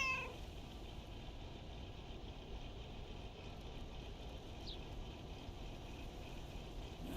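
A cat meows inside a video game, faint and brief against a steady, noisy background hiss that runs throughout.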